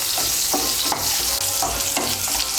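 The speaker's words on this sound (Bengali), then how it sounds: "দিয়ে কাঁচা কলাগুলো ভেজে নেব।" Raw green bananas fry in hot oil with a loud, steady sizzle, broken by a spoon scraping through the pan every half second or so.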